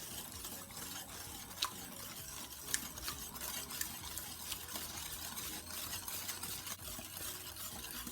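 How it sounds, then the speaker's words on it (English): A wet mixture of orange juice, vanilla and orange extract is whisked in a bowl for cranberry orange bread, giving faint, continuous sloshing and stirring with a few soft clinks against the side. "Going to whisk everything together until it's well combined."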